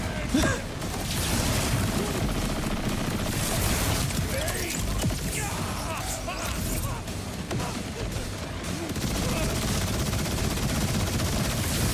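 Rapid gunfire and rocket blasts from many shooters in Borderlands 4, a dense continuous barrage of cracks and explosions that stays loud throughout, with a voice briefly heard underneath.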